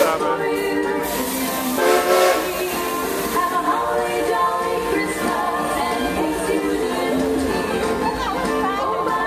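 A Silver Dollar City sing-along Christmas train rolling past, wheels rumbling under a brief horn burst early on, with people talking and a tonal, singing-like layer over the noise.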